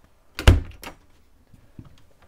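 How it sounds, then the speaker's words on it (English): A bathroom door in a 2014 Wind River 280 RLS RV opens with a close, solid latch clunk and a short rattle, followed by a softer knock and quiet settling in the small room. "Now let's try the other door."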